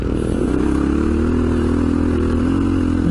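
Loud, close engine drone of a WR dirt bike and a 590 dirt bike riding together, a steady throbbing rev with rattling and clatter on a slippery creek-crossing road.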